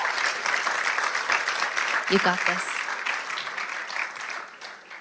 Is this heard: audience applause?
yes